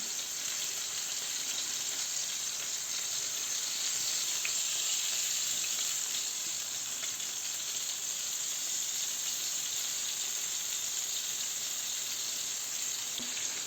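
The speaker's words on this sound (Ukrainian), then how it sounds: "І будемо тут смажити паралельно" Flour-dredged fish fries in a pan with peppered, salted coating, giving a continuous soft sizzle and hiss that stays steady and fairly quiet throughout, with no voices over it.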